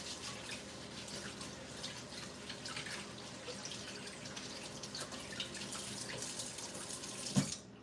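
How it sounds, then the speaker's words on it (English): Water runs steadily from a kitchen tap during hand washing, a soft continuous splashing with faint dripping, quiet and close, ending with a brief clunk. "let me wash my hands"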